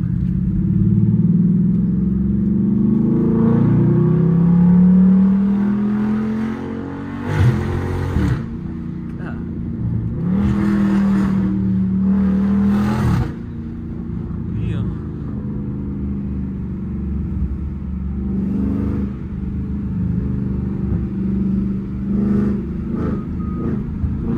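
A catless Chrysler 300 SRT 392 drives at night, its engine and exhaust giving a deep, loud rumble that rises and eases under ongoing conversation inside the car.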